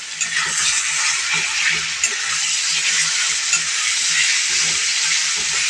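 Marinated chicken with ginger-garlic paste, green chili and turmeric frying on a low flame, stirred in a pan: a continuous close sizzle with soft repeated scraping strokes of the spoon.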